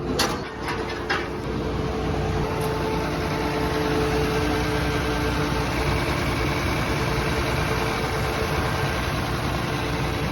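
Combine harvester engine idling steadily at close range, a continuous low rumble with a broad mechanical hum that holds even for the full stretch, with a few brief clicks near the start.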